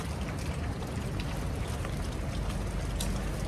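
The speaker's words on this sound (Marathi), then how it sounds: "रात्रीपासून पाऊस पडतो आहे, तो अजूनपर्यंत पडतो आहे." Steady rain falls without pause during a day-long monsoon downpour, a dense, even hiss of drops striking surfaces close by, loud and unbroken, with no voices.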